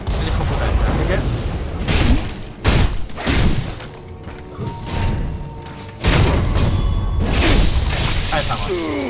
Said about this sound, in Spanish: me están tirando cañonazos